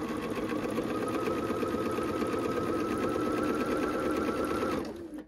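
A sewing machine stitching pieced quilt fabric runs in one continuous, fast, steady hum and needle chatter, close and loud, slowing and stopping right at the end with no talking.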